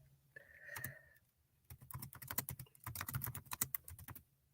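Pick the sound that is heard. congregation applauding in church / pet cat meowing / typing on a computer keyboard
typing on a computer keyboard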